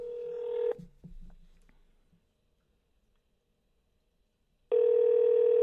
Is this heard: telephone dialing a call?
yes